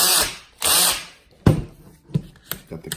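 A cordless power drill backing screws out of a Losi 8ight RC truck chassis: two sustained whirring bursts, then short clutch-slipping pulses and clicks, close up.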